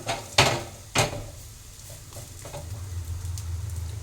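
Bitter gourd fritters frying in a little oil, with two clattering knocks of the utensil against the pan at the start, then a quiet, steady sizzle.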